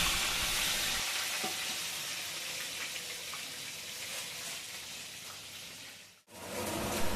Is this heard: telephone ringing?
no